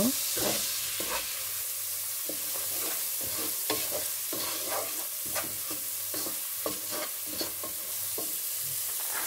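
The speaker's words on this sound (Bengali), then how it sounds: "চিংড়ি মাছগুলিকে ভালো করে কষিয়ে নিব।" Shrimp fry in a pan with spices, a steady sizzle broken by repeated scraping stirs of a spoon, close and moderately loud, no voices over it.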